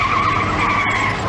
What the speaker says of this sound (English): They squeal their way up a dirt road.